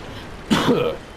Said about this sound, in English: I didn't mean to cough right in the mic